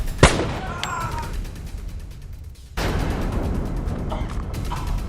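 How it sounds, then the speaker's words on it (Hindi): A single sharp gunshot cracks near the start, followed by ringing and a brief lull, then a steadier rumble of background noise. "क्यों गोली चलाई तुमने उस आदमी पर?"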